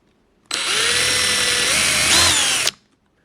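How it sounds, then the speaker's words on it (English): A power drill whines steadily for about two seconds, drilling out a rivet head on a party light, its pitch rising slightly as it bites into metal, then stops abruptly. "Drill the head right off and the rivet will just pop out the other side."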